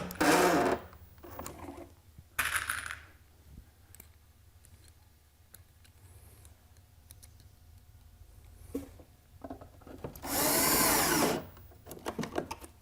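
Power drill driving screws into pocket holes on a Kreg workbench, a few short whirring bursts near the start and a longer one toward the end, with quiet handling noises between.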